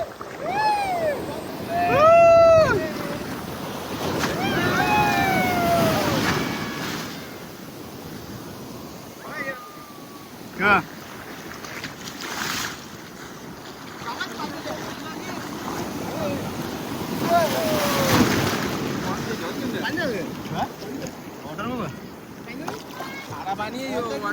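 Sea waves wash along the Konkan coast in a steady roar with wind buffeting, while people talk loudly over it for much of the stretch.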